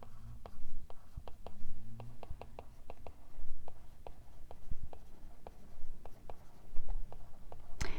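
Handwriting a formula on paper: a steady series of short, quiet pen scratches and taps in an irregular rhythm, close up, with faint breathy speech low in the background.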